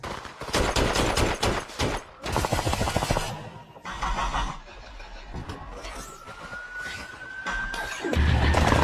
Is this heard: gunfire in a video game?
yes